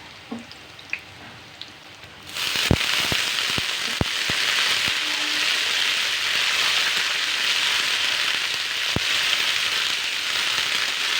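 Fenugreek leaves hit hot oil with garlic and green chili, setting off a sudden loud, steady sizzle. A few sharp pops and crackles come through near the start, then the frying hiss holds constant.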